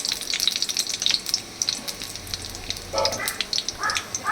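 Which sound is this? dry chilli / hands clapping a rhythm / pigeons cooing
dry chilli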